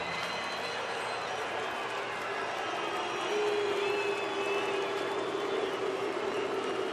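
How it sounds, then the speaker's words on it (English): A baseball crowd in a Milwaukee ballpark roars steadily during a Braves game and chants a player's name. A broad, distant wash of voices swells slightly midway and holds without a break. "Crowd chants Luke."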